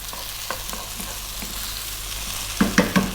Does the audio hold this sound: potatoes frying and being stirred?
yes